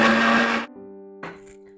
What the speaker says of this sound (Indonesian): kita blender kembali untuk mencampur bahan-bahan